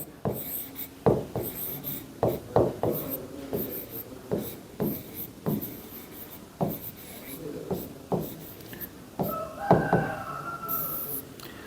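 Marker or chalk writing on a board during a chemistry lecture, a series of close, irregular scratchy strokes and taps, with short pauses between bursts and little talk.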